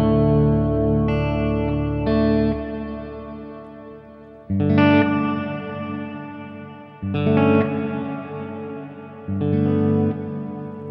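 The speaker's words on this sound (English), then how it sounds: "I'm gonna leave all the switches up a fair way, just so you can really hear the reverb" Electric guitar through a Boss RV-6 reverb pedal in modulation mode, playing four strummed chords that each swell and ring out into a shimmering, wavering reverb tail. The chords come at spaced intervals, with no voices.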